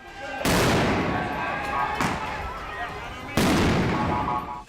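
Stun grenades explode in news footage of street unrest in Jerusalem. There are three loud, sharp bangs about a second and a half apart, each followed by dense crackling noise and a roar of commotion.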